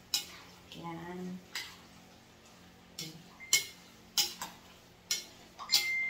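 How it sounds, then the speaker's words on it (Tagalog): A spoon stirs sago mixed in water, making a series of sharp clinks and scrapes against the container at an uneven pace, close and fairly quiet, with a brief spoken word near the start. "Halo lang natin siya."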